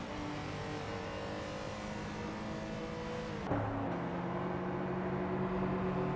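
Simulated Lamborghini race car engine from a racing simulator game at Road Atlanta, droning steadily with a sharp shift in pitch midway as it changes gear, surrounded by the hum of other sportscars.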